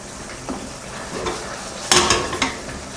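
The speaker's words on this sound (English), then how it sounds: "Combine a tablespoon of corn flour slurry to the tofu." Corn flour slurry is stirred into mapo tofu simmering in a pan, with soft scraping strokes and a brief flare of sizzling and bubbling midway, close and moderately loud.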